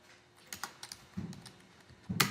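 Keys on a computer keyboard are tapped in short bursts while entering text in MS Word, quiet and close, with a few separate clicks and a final louder cluster.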